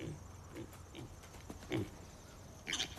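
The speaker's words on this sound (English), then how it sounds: "You see a pig with a shirt on, right?" A pig oinks in a few short, quiet grunts scattered over a faint background, with a slightly louder snort near the end.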